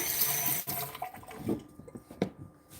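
Water runs and splashes into a cooking pot for steaming kabocha squash, a brief rushing pour that breaks into uneven gurgles and drips, close and moderately loud.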